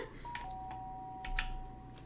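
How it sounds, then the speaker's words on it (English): An in-game doorbell from the Danganronpa visual novel chimes faintly over a steady low background hum, with a few short bright tones and one slightly louder ring near the end. "The sharp sound of the doorbell pierced my sleepy haze and pulled me back to the real world."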